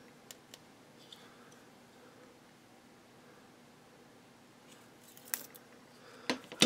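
Scissors snip open a 1988 Maxx Racing trading card pack, with a few faint, sparse clicks early on and then a burst of sharper, closer cuts and crinkles near the end, over quiet background hiss.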